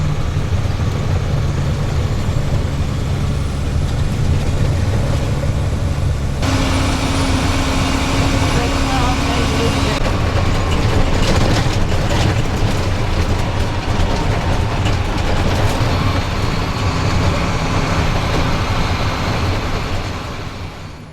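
A train at the Denali train station in Alaska on a drizzly day, a loud, steady rumble and clatter of rolling railcars close by, with no talking.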